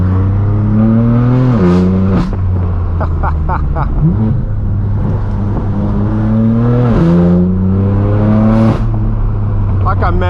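Straight-piped BMW M4 F82 on a driving road, its exhaust revving hard through repeated rising and falling pulls, loud and close, with shift breaks between runs.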